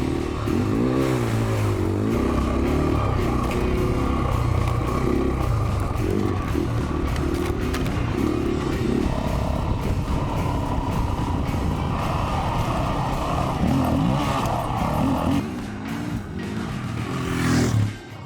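A KTM adventure motorcycle carries its rider across the Arizona desert, the engine droning steadily and loudly with wind rush, rising and falling with throttle over a long continuous stretch.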